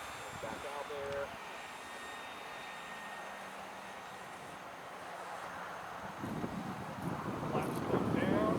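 A Banana Hobby BlitzRCWorks Hawker Sea Fury 1200 RC model airplane drones faintly in the distance under wind noise while on its landing approach with gear down, growing somewhat louder near the end as someone talks.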